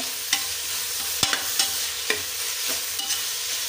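Tomatoes frying in butter with salt in a pan, a spoon clacking and scraping in irregular strokes over a steady close sizzle, with no talking.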